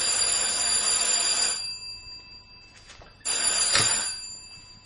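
A telephone bell rings in two bursts, loud and close, separated by a brief pause, with no talking over it, in a French mystery radio drama.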